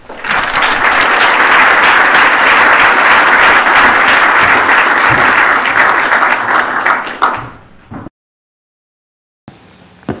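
An audience at a lecture applauds to welcome Dr. Bill Shilts, a loud, steady wash of clapping lasting about seven seconds before fading out abruptly into silence.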